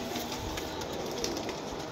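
Captured pigeons on a plaza rooftop in Jhelum, Pakistan, give faint, soft coos and bird sounds against a steady background hiss, with no talking.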